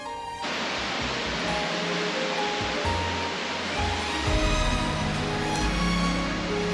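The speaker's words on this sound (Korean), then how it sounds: "약 50m 높이에서 내리치는 폭포수." A roughly 50-metre waterfall, Tapia Falls, pours in a dense, steady roar of rushing water that starts abruptly and fills the scene without any talking.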